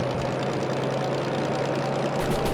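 The DM3 diesel locomotive in the Derail Valley train simulator idles with a steady, dense engine rumble and a constant low hum, close and unbroken, with no talk over it.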